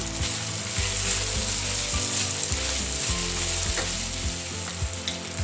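Sausage meat stuffing sizzling and crackling in a hot pan, a dense steady fry with a rhythmic low scraping of stirring, close and alone without talk.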